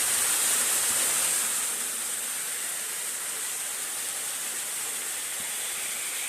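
A waterfall on Deep Creek Trail in the Great Smoky Mountains, running high after morning rain, roars as a loud, steady broadband rush with no voices.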